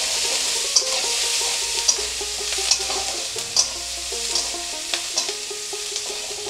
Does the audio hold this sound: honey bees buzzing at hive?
no